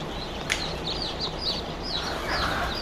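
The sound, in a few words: Hili native chickens clucking at a poultry hatchery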